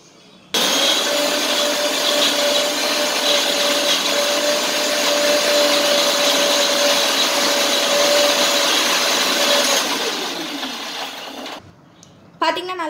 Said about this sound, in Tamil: இப்போ போய் இதை வந்து நல்லா நான் என்ன செய்யப்போனா ஒரு பைன் பேஸ்ட்டாக அரைச்சி எடுத்துகிட்டு வந்துடுறேன்